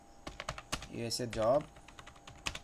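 Quick, light keystrokes tapping on a computer keyboard in bursts, close and soft, with a voice speaking briefly in the middle.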